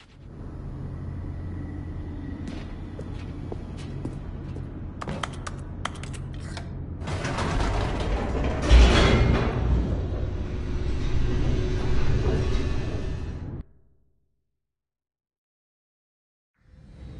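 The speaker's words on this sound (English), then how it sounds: "The elevator raced downward, plummeting towards an unknown fate." Elevator descending in The Stanley Parable game: a steady low mechanical rumble with scattered clicks and rattles, swelling into a louder grinding rush midway, then cutting off abruptly into silence before a faint sound returns.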